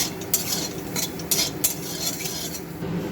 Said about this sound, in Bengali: বাদামটাকে আমি শুকনো খোলায় ভেজে নেব